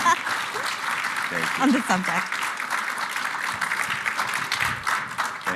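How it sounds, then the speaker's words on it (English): A round of applause from an audience at a convention, continuous clapping heard alongside a brief spoken remark near the start. "I'd like to give everyone a round of applause"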